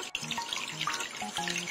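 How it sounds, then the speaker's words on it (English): Water splashes and runs while a bathtub is washed in a children's house-cleaning video game, giving short bubbly, trickling cartoon sounds close up with bright plinks over a brief stretch. "Wash the bathtub."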